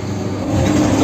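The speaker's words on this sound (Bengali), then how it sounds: "সে ট্রেনে করে আমরা আজকে যাচ্ছি।" Kolkata Circular Rail local train on the Baranagar–Hasnabad line, a steady low rumble of the running carriage with a faint hum building slightly partway through.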